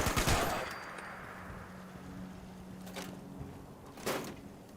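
Turret gunfire in Fallout 76: a sharp burst opens the clip, followed by a faint lingering hum and a second short burst of shots near the end, fairly quiet overall.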